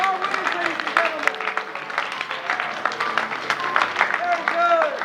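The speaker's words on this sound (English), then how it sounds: "Let's have a round of applause for our winners, ladies and gentlemen." An audience claps for the winners of a Clue game, a steady round of applause that holds throughout, with a voice speaking over the clapping.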